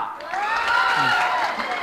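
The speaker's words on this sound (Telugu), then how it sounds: "నీకు ఒక్కసారి మనోళ్ళ తరపున క్లాప్స్ కొట్టండి రా" Second-year college students cheering and whooping for a classmate at a college event, a loud crowd roar that swells and holds for a couple of seconds, with a shouting voice rising above it.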